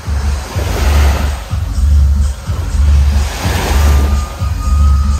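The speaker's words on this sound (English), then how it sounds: "we took this auto rickshaw ride till the Mondello Beach" An auto rickshaw carries passengers toward Mondello Beach in Palermo, its loud, close engine throbbing in pulsing low bursts as it revs and accelerates, with road and wind noise over the top.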